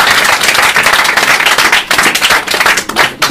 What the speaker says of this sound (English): Give her a nice, big, giant round of applause.